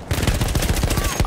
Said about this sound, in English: This gun has a lot of kick, and it shoots very fast